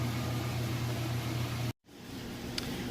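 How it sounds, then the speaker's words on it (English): A Whirlpool top-load washer spinning fast, giving a steady loud whirring hum with a low tonal drone that cuts off abruptly for a moment, then resumes at a lighter level with a faint short click. "Spinning nice and fast."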